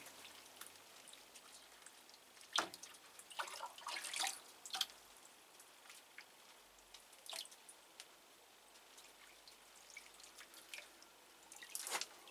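Water drips from a drip irrigation system watering plant cuttings, making sparse, irregular close taps and splashes against a quiet, faint background.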